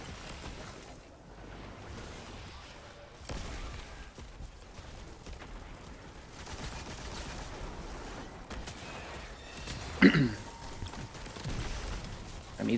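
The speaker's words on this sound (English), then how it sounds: "He's shooting at you, Semi." Gunfire from the video game Destiny 2 crackles in rapid bursts, with a louder volley near the end set against a busy game soundscape.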